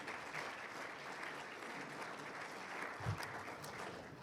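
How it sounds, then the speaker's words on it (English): Audience at a chamber of commerce awards gala breaks into steady, sustained applause, a dense wash of clapping from a large room heard at a distance, with no voices over it. "Give Morningside a good round of applause."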